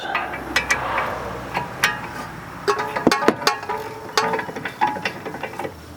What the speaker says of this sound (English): Snug the bolt down and then tighten it with a ratchet.